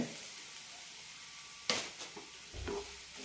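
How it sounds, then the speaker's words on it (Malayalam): Unroasted semolina with sliced onion is stirred in a pan over low flame: a faint, steady sizzle, then a few soft scraping strokes of the spoon, quiet and close, without speech. "മൂന്നോ നാലോ മിനിറ്റ് നന്നായി വറുത്തെടുക്കാം"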